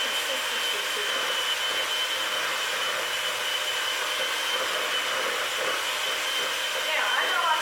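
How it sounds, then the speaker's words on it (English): Electric hand mixer beating butter in a bowl for a from-scratch pound cake, a constant high whirring drone, close and loud and unbroken throughout. "So you want to mix this butter until it becomes a fluff."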